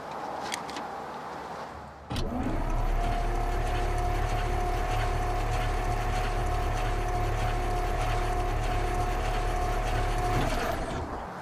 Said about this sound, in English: it sounded funny because none of the spark plugs are in the engine, so it's spinning over very freely